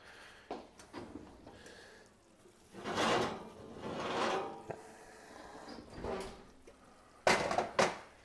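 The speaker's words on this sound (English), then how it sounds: "We're going to pull it out, set it on the stovetop, and let it cool." A baking dish of crab dip comes out of the oven and is set on the stovetop, giving a few soft scrapes, knocks and clunks of oven rack and dish with quiet pauses between.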